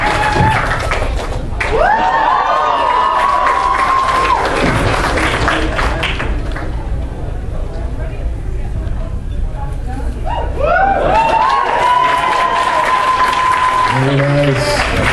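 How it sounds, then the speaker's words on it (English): Crowd applause and scattered cheering at the ALL-CON 2011 costume contest run steadily beneath an announcer's amplified voice, swelling again near the end. "Another round of applause."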